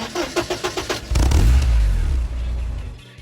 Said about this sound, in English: The engine has its own distinct note as well, starting with a low rumble